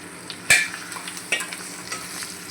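Okra tossed into hot oil with spices, a sharp clatter at the start followed by a soft continuous sizzle and a few lighter stirring scrapes, close up with no voices.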